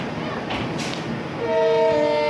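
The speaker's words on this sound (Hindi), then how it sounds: "अब हमारी ट्रेन चापरा मोड़ जंक्शन से निकलती हुई।" A train pulling out of Chaparmukh junction in Assam, with steady rolling rumble and hiss that swells louder, joined near the end by a sustained tonal horn or whistle.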